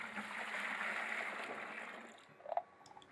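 Water pours from a container for mixing countertop concrete, a faint, steady rushing stream that thins out and ends with a few small splashes and drips.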